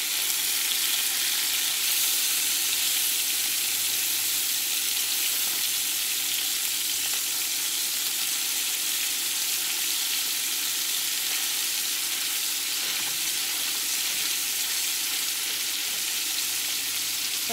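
Venison Salisbury steak patties frying in a cast iron pan, a loud, steady, close hiss of sizzling fat that holds evenly throughout with no talking.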